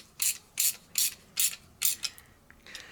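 A ratchet tightens a nylon locking nut, with a washer and split washer, onto a bolt through one-inch steel plate: about five close, crisp bursts of rapid pawl clicks in steady rhythm, then a few lighter clicks.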